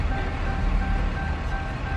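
A truck pulls up at the roadside after a car wreck, its engine a steady, fairly close drone with a faint tonal whine running through it.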